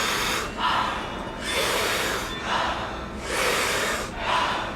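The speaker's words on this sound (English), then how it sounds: "So big, powerful inhale, soft exhale." Wim Hof style breathwork during a kundalini yoga class: a steady rhythm of big, powerful rushing inhales alternating with softer exhales, about four full cycles, close and loud with no talking.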